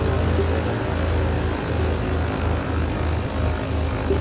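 A Britten-Norman BN-2 Islander taxiing in a flight simulator game near New Orleans, its propeller engines droning in a loud, steady, even hum that fills the whole stretch without any talk.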